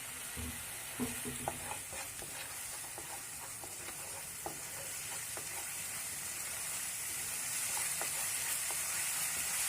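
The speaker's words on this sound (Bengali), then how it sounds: "এইভাবে যতক্ষণ না তেল না ছেড়ে যাচ্ছে ততক্ষণ মশলাটাকে কষতে হবে।" Kashmiri chilli powder and masala are stir-fried in oil in a pan, giving a soft continuous sizzle with light scraping stirs, quiet and steady with no voices.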